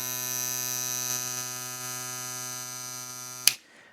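Steady buzzing hum of a Kemei 90-4 hair clipper running alone at close range, constant in level, stopping abruptly with a short click at the end.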